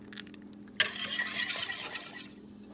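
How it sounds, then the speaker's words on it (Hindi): Eggs, sugar and oil whisked together in a bowl for a microwave vanilla cake, a sudden start of rapid, scratchy whisking close by that runs for about a second and a half, then stops, with no voices. "अंडे, शुगर और ऑयल तीनों को मिक्स कर लिया"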